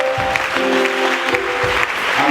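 A church congregation applauds, a sustained burst of dense clapping with some cheering voices and musical tones mixed in, loud and close throughout.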